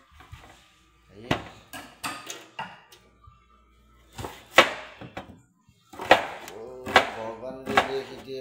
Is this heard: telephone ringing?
no